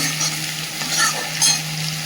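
Spice paste of turmeric and cumin powder frying in a pan, a steady soft sizzle with occasional stirring scrapes, close and moderately loud, alone without voices.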